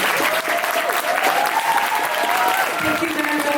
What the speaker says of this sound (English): I would like you first of all to give a warm applause for Elliot, who will be leaving us tonight.